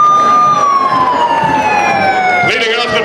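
Emergency vehicle sirens wail loudly at a Fourth of July parade in Jackson, Wyoming, one steady descending tone sliding down over about two and a half seconds before a new burst of siren and crowd noise takes over.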